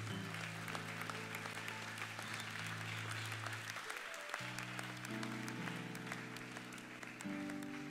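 Church congregation applauding, dense sustained clapping over loud organ-like held chords and music that shifts pitch, with a few voices mixed in.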